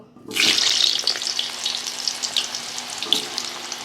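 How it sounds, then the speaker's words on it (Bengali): Sweet potato pieces fry in hot oil, a steady crackling sizzle that bursts in loudly, holds close and continuous, and swells briefly near the end with no talking. "এবার মিষ্টি আলুটা আমি ভেজে নেব"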